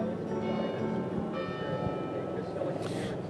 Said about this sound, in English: And you can hear the bells behind us here outside of the Basilica at St.